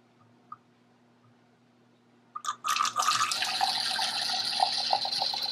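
Cabernet wine pouring from a bottle through an aerator into a glass, beginning with a faint tap, then a steady gurgling, hissing liquid flow for about three seconds, close and clear with no voices.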